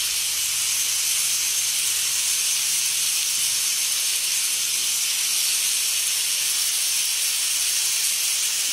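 Steady, loud hiss of oyster sauce hitting a hot pan of kangkong (water spinach), a continuous sizzle with no break and no talking.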